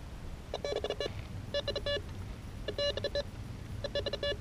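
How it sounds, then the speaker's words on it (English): A Bounty Hunter Tracker IV metal detector gives target tones: four short clusters of rapid electronic beeps, evenly spaced, heard clearly over a low background hiss. "All recovery speed means is how fast the detector can detect and notify us of a target after it has just detected another target."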